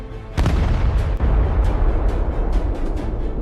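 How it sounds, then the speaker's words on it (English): The SS Mont-Blanc munitions ship detonating in Halifax harbour with nearly 3 kilotons of TNT force, a sudden deep boom followed by a sustained heavy rumbling roar with scattered crackling bursts. "The SS Mont-Blanc detonates with the force of nearly 3 kilotons of TNT."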